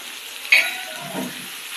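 Curry leaves hit hot oil for a dried prawn and onion curry, bursting into a sudden loud crackling sizzle that settles into a steady close frying hiss, with a faint stir partway through.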